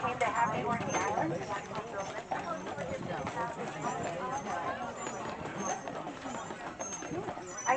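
Horse hooves clip-clop steadily on a carriage tour, a continuous rhythmic patter under a busy babble of voices outdoors.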